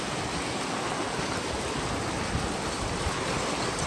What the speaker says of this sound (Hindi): और गंदा बारिश हो रहा है।